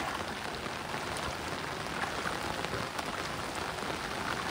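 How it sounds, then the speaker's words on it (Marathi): Heavy monsoon rain pours down steadily on surfaces in a flood-hit village, a dense, unbroken wash of hiss and drops with no voices. "मोठा पाऊस आहे"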